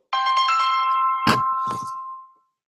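A phone ringtone plays as a steady melodic tone for about two seconds, loud and close, broken by a couple of sharp clicks or taps near the end.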